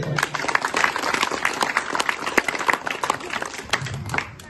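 An audience claps at a school's handwritten magazine launch, dense scattered applause sustained for a few seconds at moderate volume, with faint voices mixed in.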